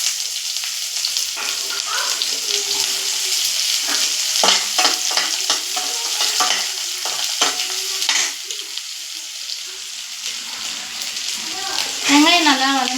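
Onions sautéing in a pan with cloves and a bay leaf for vegetable kurma sizzle steadily while a spoon scrapes and knocks against the pan in irregular bursts, with a voice talking in the background.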